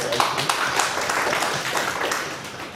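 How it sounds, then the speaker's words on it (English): An audience at a training programme for peer reviewers gives a brief round of applause, a dense patter of clapping that fades slightly toward the end. "Can we have a round of applause for that?"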